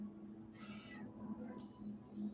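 A cat meows softly several times indoors, faint, drawn-out cries over a steady low hum, with no talk overlapping.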